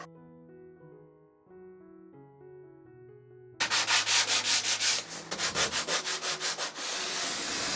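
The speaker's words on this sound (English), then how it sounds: "This sander I'm using is a Festool Rotex 90 sander" A Festool Rotex 90 sander works on wood from a vintage sewing table, starting after quiet background music with a loud, rough abrasive roar that pulses in repeated strokes, then settles into a steady grind.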